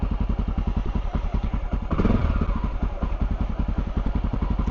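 Honda XR650L single-cylinder motorcycle running on choke just after starting, a loud close thumping idle with an even rapid pulse and a brief swell in the middle.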